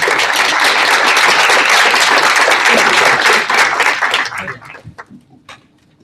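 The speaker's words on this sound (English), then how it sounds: "let's a round of applause for yourselves" Audience applause at the close of a talk, loud dense clapping for about four seconds before tapering into scattered claps and fading out.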